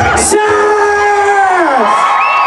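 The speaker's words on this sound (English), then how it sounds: "Give them a big round of applause." Crowd at an outdoor Pride main stage in Calgary whoops and cheers loudly, a sustained sung-out yell rising and falling over a dense roar, with scattered shouts and a brief burst of clapping near the start.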